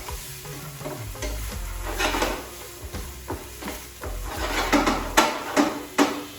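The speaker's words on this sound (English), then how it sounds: "So just going to fry those beans for about 5 to 10 minutes." Beans seasoned with garlic powder, onion powder and cumin fry in a pan, a close sizzle broken by repeated scraping and stirring strokes of a spatula and a few sharp knocks against the pan.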